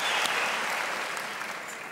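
Stand-up comedy audience on a Turkish talent show breaks into sustained applause, a thick continuous patter of many hands that slowly tapers off toward the end.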